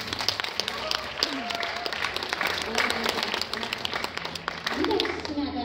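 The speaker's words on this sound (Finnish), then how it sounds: "Taputtakaa nyt." An audience at the Matsucon 2017 cosplay convention claps and applauds steadily throughout, a fairly dense indoor crowd applause with a host's voice briefly heard.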